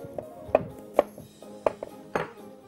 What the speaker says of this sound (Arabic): اقطع البصل مكعبات كده اهو